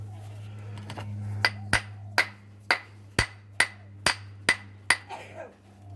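A small hammer strikes a flint hag-stone while spalling it, giving about ten sharp ringing clinks in a steady rhythm, close up over a low steady hum.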